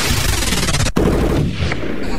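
A dense, loud burst of rapid gunfire plays as a sound effect in a Filipino radio show, with a sharp cut near the middle. It continues as a noisy, rattling barrage.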